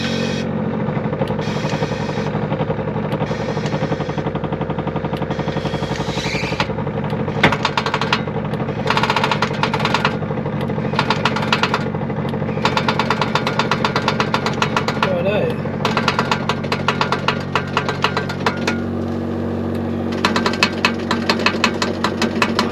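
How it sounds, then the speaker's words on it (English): An air suspension airbag compressor runs inside a vehicle. It makes a loud, steady mechanical buzz and chatter, rattling and throbbing without a break, with some brief dips and surges in intensity. "You can hear the actual airbag compressor"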